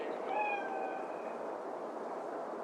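A single cat meows faintly in Cyberpunk 2077, one short drawn-out cry early on, then only a low steady background hum.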